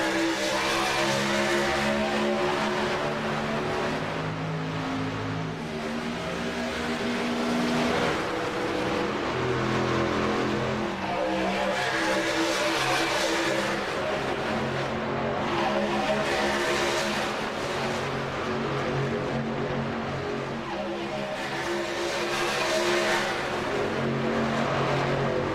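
Racing trucks roaring around Atlanta's oval in the iRacing sim, a continuous dense drone of multiple engines with layered harmonic whine that swells and fades slightly as the pack passes.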